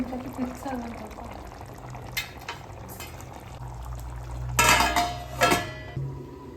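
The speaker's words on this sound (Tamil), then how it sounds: "இன்னும் கொஞ்சம் தண்ணி சேர்த்து கொதிக்க விட்டுட்டு நம்ம தட்டு போட்டு முடியலாங்க" Water poured into a pan of chicken pepper fry, a short liquid splash with a clatter of pan or utensil near the mic, plus faint bubbling and kitchen background noise.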